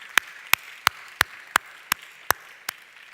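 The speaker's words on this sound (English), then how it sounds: "can we just give the BAUS sort of backroom staff a big clap" Slow, steady single claps ring out at even intervals, about eight sharp hand claps in a row, close and clear against a quiet room at a urology conference.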